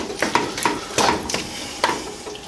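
Butter and sauce stirred in a pan for a pork sausage gnocchi bake, with five or six distinct scraping spoon strokes at an uneven pace over a low sizzle, close by and with no voices.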